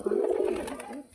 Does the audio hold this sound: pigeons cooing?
yes